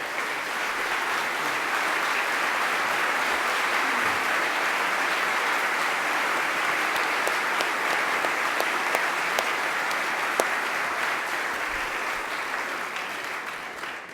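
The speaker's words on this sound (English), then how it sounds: "And if they could stand and be applauded" A room of people gives sustained applause to senior staff standing at a college gathering. The clapping is even and moderately loud throughout, with a few sharper individual claps standing out.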